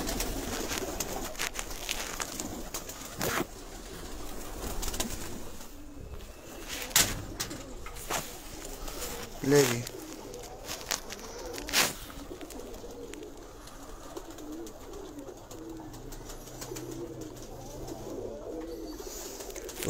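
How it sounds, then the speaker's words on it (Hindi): White pigeons of the Diwan Sahab breed coo softly in a few low, spaced calls, with occasional wing flutters and a brief spoken phrase nearby. "जिस भाई ने सफ़ेद कबूतर का बोला था, ये वैची सफ़ेद दीवान साहब वाले।"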